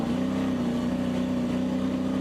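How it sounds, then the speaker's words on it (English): Bobby Labonte's SRX race car holds throttle at Sharon Speedway, giving a steady, unbroken engine drone with a strong low hum and no gear changes across the short stretch. "Listen to the throttle in here."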